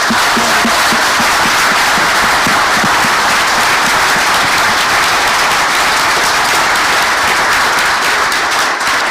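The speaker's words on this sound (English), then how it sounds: "How about a round of applause for" Sustained audience applause at a 2022 mayoral forum held by a business chamber of commerce in Queenstown, New Zealand: a dense, loud wash of many hands clapping steadily without a break, with no speech over it.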